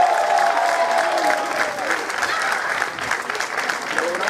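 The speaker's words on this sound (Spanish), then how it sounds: "Yo quiero más fuerte aplauso y un ruido fuerte para ellos" Audience at an urban fest intro gives loud, continuous applause with some cheering, a dense wash of clapping under a host's voice speaking at moments.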